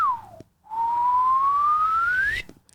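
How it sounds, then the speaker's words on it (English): A short whistled note, then a long steady whistle rising slowly in pitch, clear and close in a quiet room. "Especially if I whistle."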